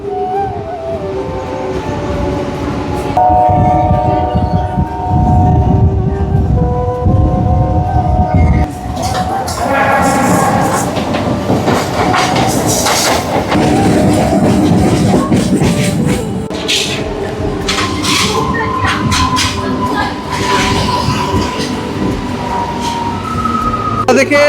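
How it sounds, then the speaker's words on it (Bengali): Howrah–Digha local train rolling through Dasnagar station, a loud steady rumble of wheels and carriages with a horn-like tonal blast early on; people talk over the noise throughout. "আমাদের ট্রেন এখন ক্রস করছে দাসনগর স্টেশন।"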